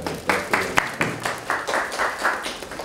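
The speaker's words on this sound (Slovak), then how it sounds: "posledný potlesk Monike Kolúravej." An audience at an awards ceremony for a photography and literary competition applauds, a short round of regular clapping with sharp rhythmic claps standing out over the softer spread of many hands, moderate in volume.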